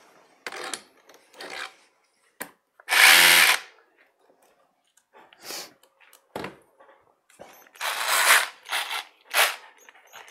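A rotary hammer drill in a Lidl versus Bosch comparison runs in short bursts, with one loud roaring burst and several briefer whirring pulses separated by quiet gaps and faint handling noises.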